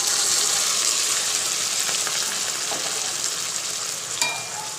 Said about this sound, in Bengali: এবার আমার সেদ্ধ করে রাখা ডালটা দিয়ে দিলাম